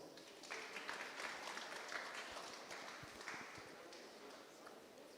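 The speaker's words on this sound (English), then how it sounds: "give them a round of applause" A crowd applauds at a national debate championship final as a secondary school team is called up: steady, fairly soft and distant clapping that holds for several seconds in a large hall.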